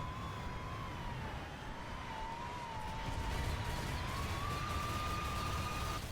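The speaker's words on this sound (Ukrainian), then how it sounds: "Так, чую, як свистить Абрамс двигуном своїм." An Abrams tank's turbine engine whistles in War Thunder as a steady, slightly wavering high whine that runs unbroken over a dense rumble, with no talk.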